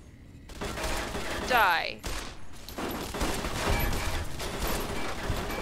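Automated turrets open fire in Fallout: New Vegas, a rapid burst of gunfire with mechanical whirring and thuds, followed by continued combat noise, while a player speaks briefly over it.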